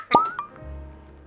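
A cork pulled from a bourbon bottle from a craft distillery: one sharp pop, a short squeak of cork, then a small second knock, close and alone in a quiet room.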